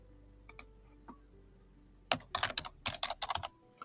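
Someone types a new node name on a computer keyboard: a few isolated key clicks, then a quick, close burst of rapid keystrokes, with no talking.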